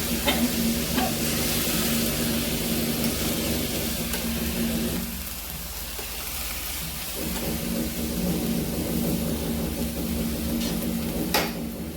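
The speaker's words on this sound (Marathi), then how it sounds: "सगळी पत्तागोबी आपण फोडणीमध्ये मिक्स करून घ्यायची।" Cabbage stirred through a hot spiced tempering in a pan crackles and hisses continuously, the sizzle briefly dipping midway before returning, with an occasional clink of the spatula.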